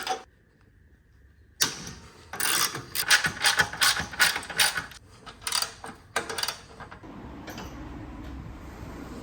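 A ratchet wrench undoing bolts on the front mount intercooler of a big-turbo Toyota Hilux: close, rapid clicking pawl bursts in uneven runs, with short pauses between strokes and a softer mechanical rattle at the end.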